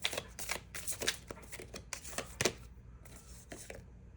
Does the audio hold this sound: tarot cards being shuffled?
yes